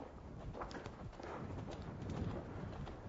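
A horse's hooves thudding on the ground during show jumping training, a muffled, close, rhythmic series of footfalls over a rough, low background.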